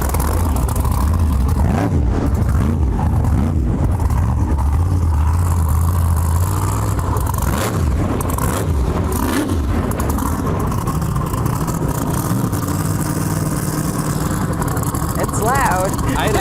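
A monster truck engine fires up in a stadium before a Monster Jam show and keeps rumbling and revving loudly and close by for the whole stretch, with no quiet gaps.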